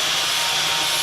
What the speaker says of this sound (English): He's just fettling a piece of fiberglass.